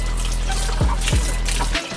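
Water draining out of a 7.5 kg Whirlpool semi-automatic washing machine from 2019, heard as a steady, continuous trickle and flow close by, with a couple of brief low thumps partway through before it cuts off.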